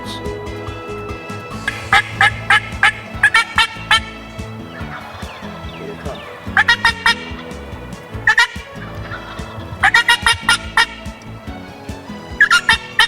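Wild turkeys in New York woods gobble in loud, rattling bursts that come again and again from several birds, near and clear against a quiet backdrop.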